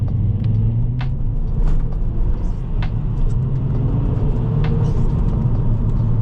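A turbocharged 2011 MazdaSpeed3 accelerating drones and rumbles steadily from inside the cabin, a low constant roar with faint clicks, no clear rise in pitch.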